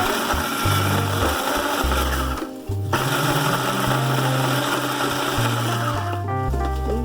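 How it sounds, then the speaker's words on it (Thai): A blender whirs loudly and steadily, coarsely chopping fried mushrooms with chili for a Lao dish, its motor pitch shifting as it pulses, with two brief dips where it pauses before restarting. "เจียวเห็ดยำพริกลงไปแล้วก็ปั่น"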